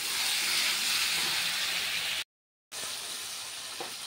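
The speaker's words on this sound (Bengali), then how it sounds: "মশলাটা দিয়ে কষিয়েছি" Spices sautéing in a hot pan for a bottle gourd curry, a steady broad sizzle that cuts out briefly and returns, close and continuous with no voices.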